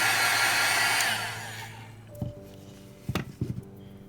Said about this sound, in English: you can go back in with the heat tool